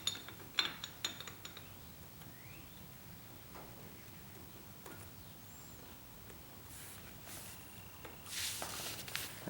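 Ratchet wrench clicking while loosening front fender bolts on a Harley-Davidson 48 motorcycle, with faint intermittent mechanical ticks and a louder burst of ratcheting near the end over a quiet workshop background.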